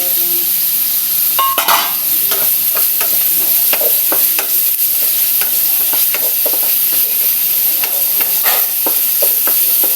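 Chicken stock poured into a hot pan of sautéed chicken with little oil, hissing and sizzling steadily with scattered clinks and scrapes of a utensil against the pan.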